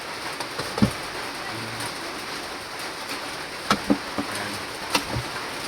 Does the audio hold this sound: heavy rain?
yes